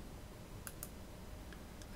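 A computer mouse clicks while someone navigates folders in Windows Explorer, giving a few faint, quick, crisp clicks, a close pair and then two more, over a steady background hiss.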